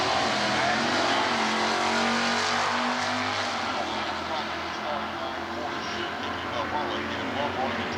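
Drag race cars, a Plymouth and an '85 Camaro with a 305, running in NHRA stock eliminator at a drag strip, a loud sustained engine roar throughout with an announcer talking over it.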